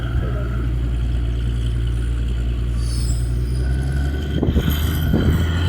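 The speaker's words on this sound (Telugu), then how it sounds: "అక్కడ ఇంజన్ స్టార్ట్ అయింది." A steady low engine rumble runs throughout, loud and constant, with a few clanking knocks near the end.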